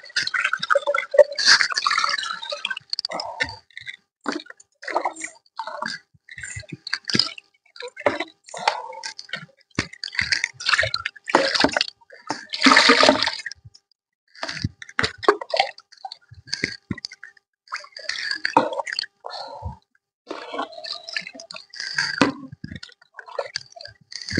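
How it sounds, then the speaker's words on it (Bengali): Water is poured into a tub holding a lotus plant in a rooftop garden, giving irregular splashing, dribbling and wet squishing bursts up close, with no talk. "আমি এটাতে জল দিয়ে দিচ্ছি বন্ধুরা।"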